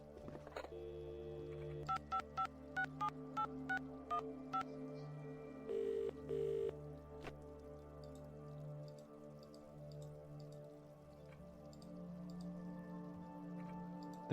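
Telephone keypad tones from the video game The Dream Machine: a rapid run of short dialing beeps early, then a pair of longer tones, over a steady low ambient hum.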